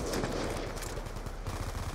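A sniper rifle quick-scope shot in Black Ops 2 on Xbox 360, a loud sharp report followed by further quick gunfire bursts in a busy game mix.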